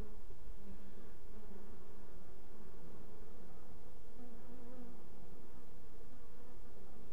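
Honeybees flying back into the hive loaded with pollen make a dense, continuous buzzing drone, steady and close, with no talk.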